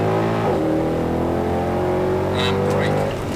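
A Mercedes-AMG car accelerates at full throttle on a driving-experience track, its engine droning steadily and rising in pitch, heard from inside the car. Voices talk over it.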